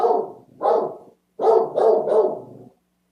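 A dog barks indoors during a lecture, with four or five loud, close barks in two short bursts separated by a brief pause, then silence.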